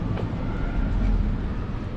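A train in France gives a steady, dense low rumble with broad rolling noise throughout, close and continuous, with no clear voices over it.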